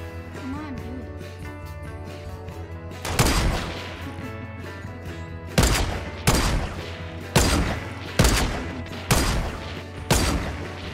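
Gunfire in the Fortnite video game: a series of loud single shots at roughly even intervals, each with a sharp attack and short decay, over steady game music, with little talking.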